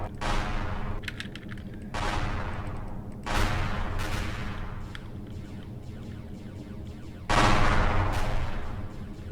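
Plasma weapon firing in the space game Empyrion Galactic Survival, several loud bursts of rapid repeated shots separated by brief lulls, with a constant rumbling background underneath.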